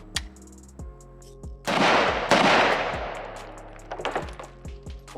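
Several sharp gunshots from a PSA AK-pattern rifle, a Type 56-style build, fired for the first time outdoors, with loud single reports and long echoing decay, followed by a few quicker shots near the end.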